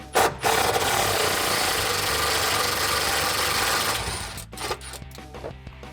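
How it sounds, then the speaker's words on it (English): A cordless impact driver spins a T50 Torx bit to break loose and back out a bolt on a 2005-2017 Mustang, a loud, dense, continuous rattling hammer lasting about four seconds before cutting off, followed by a few short clicks. "So I have my impact here and a T50 Torx bit. I'm going to loosen and remove this."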